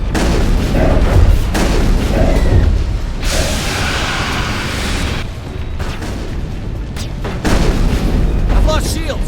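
Heavy gunfire and booming blasts from a Mass Effect firefight, a dense, loud barrage with rumbling explosions that carries on almost without pause, while voices talk over the shooting.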